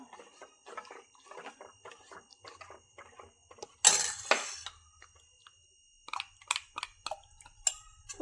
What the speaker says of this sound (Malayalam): കോൺഫ്ലവർ കലക്കി വെച്ചത് അതിലേക്ക് കുറേശ്ശെ ഒഴിച്ചു കൊടുക്കാം ഒഴിച്ച് ഇത് നമുക്ക് കുറുക്കിയെടുക്കാം